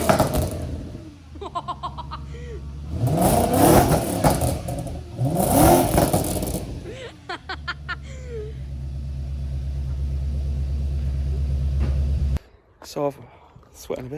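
An Audi S4 turns over on a cold start in a garage, catches with a loud burst, then revs sharply twice before settling to a deep, rumbling idle. A brief blip of revs follows near the end.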